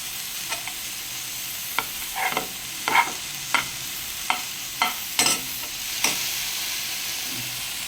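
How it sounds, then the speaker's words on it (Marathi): Fenugreek leaves sauté in a pan, a constant hot sizzle with repeated scraping stirs of the spatula cutting through at an even pace, close and clear with no talking. "ही मेथी साईडला ठेवलेली ती थोडीशी परतून घ्यायची आपल्याला आधी"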